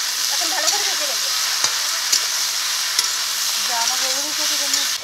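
Frying with salt, turmeric and slit green chillies, a loud, dense sizzle running throughout with occasional utensil taps, while a voice hums or speaks faintly underneath.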